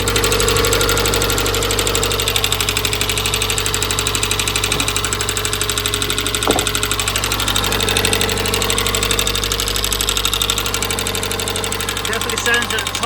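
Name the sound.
Nissan Primera P11 GT engine ticking from a sticky lifter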